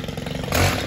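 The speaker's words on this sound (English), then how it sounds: "these 4-mix engines are fantastic for starting" A 4-mix engine lawn tool starts after a pull, sputtering briefly and then catching into a loud, rough running roar at close range.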